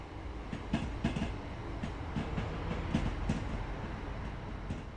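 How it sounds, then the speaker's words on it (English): Gatwick Express Class 387 eight-car electric multiple unit in Train Sim World 2, rolling along with a steady rumble and rhythmic clickety-clack of wheels over rail joints, no voices. "This particular train is a Gatwick Express Class 387 electric multiple unit"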